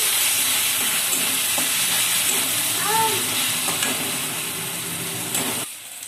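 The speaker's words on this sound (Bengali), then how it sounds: "ভালোভাবে সব মশলাগুলো আমি কষিয়ে নিচ্ছি" Ground spices with ginger, garlic and onion sizzle and hiss steadily in a hot pan with occasional stirring scrapes, then the sizzle cuts off abruptly near the end.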